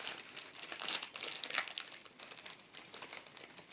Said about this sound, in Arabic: حركي الكيس كده